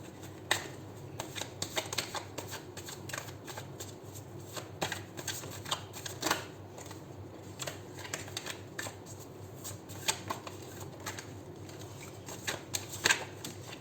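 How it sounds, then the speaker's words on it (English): Tarot cards riffled and shuffled repeatedly, a steady papery flutter with sharper snaps and bridging clicks, close up and continuous with no talking. "Seven shuffles, and we'll pull out 5 cards for pile number 3."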